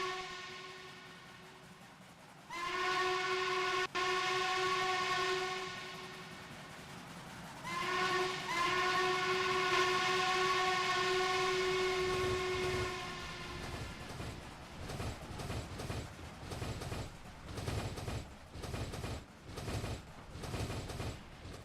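A Norfolk and Western model train on a layout approaches a grade crossing, sounding two long, loud horn blasts. The rhythmic clatter of the cars rolling over the track follows, with no voices.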